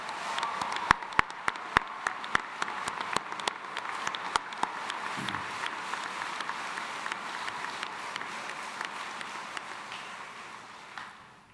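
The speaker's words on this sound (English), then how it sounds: "give these faculty and staff who have poured their hearts out to you one more round of applause" Graduates and guests applaud faculty and staff at a 2022 commencement ceremony in Gentile Arena, heard fairly faintly: sharp individual claps ring out early over a soft, sustained crowd clapping that thins and fades at the end.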